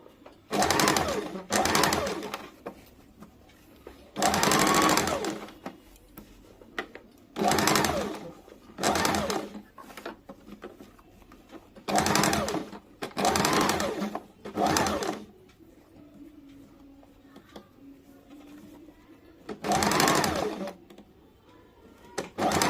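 A sewing machine stitches kurti fabric in a string of short, loud whirring bursts separated by brief pauses as the cloth is turned, with occasional quiet speech between runs.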